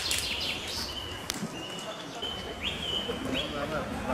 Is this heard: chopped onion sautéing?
no